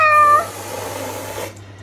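A cat gives a short, clear meow up close, followed by a quieter, trailing vocal murmur that fades out.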